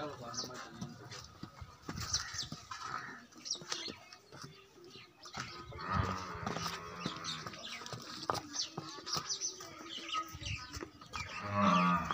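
A Nili-Ravi buffalo moos on a farm in Pakistan, with low calls breaking through ongoing conversation, birds chirping faintly in the background.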